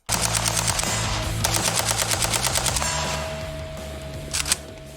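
AK-12 rifle firing a sustained burst of rapid, evenly spaced loud shots, pausing briefly and resuming, then a couple of final reports; close and loud with no talking.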